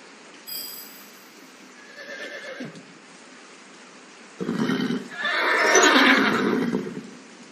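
A horse in the video game Dark City: London, scared and hungry beside a stuck carriage on a broken bridge, gives a loud, drawn-out neigh near the end, after fainter snorts and a brief whinny earlier.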